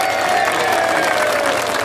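A crowd gathered at a solidarity camp in Curitiba claps in a loud, continuous burst of applause, close and dense throughout the short stretch.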